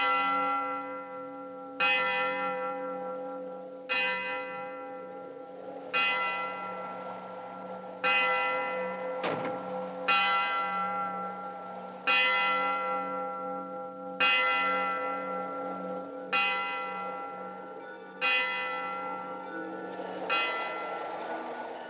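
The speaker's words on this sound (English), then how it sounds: "did you hear the bell?" A single church bell tolls about ten times at a steady slow pace, each strike ringing out and fading before the next.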